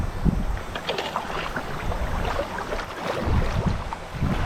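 Canoe paddling on the Jacks Fork River: water sloshing and splashing around the hull with paddle strokes, wind buffeting the microphone loudly and continuously throughout, no voices.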